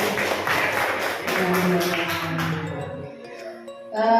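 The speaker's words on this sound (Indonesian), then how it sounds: "tepuk tangan dong untuk kita semuanya" Participants at a teacher-training workshop clap together for about three seconds in a lively, close burst, which then fades out and gives way to chiming tones.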